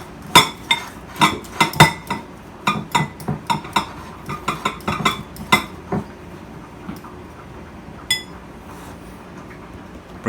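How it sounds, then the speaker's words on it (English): Boiled egg yolks mashed with a utensil in a dish for potato salad, sharp repeated metal clinks and taps against the bowl in an uneven rhythm that slows and thins out. "I'm going to smash these yolks up."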